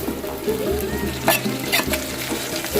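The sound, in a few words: chopped tomatoes sautéing and stirred in pan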